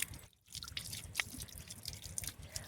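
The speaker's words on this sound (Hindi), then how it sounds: "और अब मैं इसको अपने धारे के पानी से धोऊंगी" A fresh white radish is rinsed under spring water from a village source in Uttarakhand, giving soft splashing, drips and small wet squelches. The sound stays faint and close, with irregular bursts and no talking.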